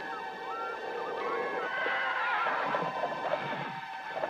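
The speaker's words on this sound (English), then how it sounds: "Some hear the sounds of ghostly horses hurtling up the stone stairs of a castle." Horses neigh and whinny in a wavering, high-pitched cry that rises and falls over a few seconds, fairly faint and eerie, with no voices present.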